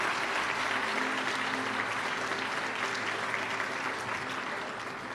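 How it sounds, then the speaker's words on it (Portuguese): Church congregation breaking into sustained applause for Jesus, a full, dense roar of many hands clapping steadily for several seconds, with a faint low hum underneath. "dá mais um aplauso para Jesus aí, por favor"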